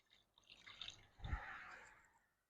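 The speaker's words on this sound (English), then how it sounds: "Pour the vinegar in." Vinegar poured into a one-gallon container, a short splashy stream that swells, glugs briefly, then tapers off into quiet.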